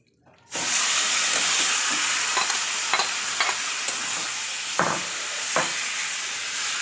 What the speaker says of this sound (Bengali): চিকেনটাও এবার অল্প করে কষিয়ে নেব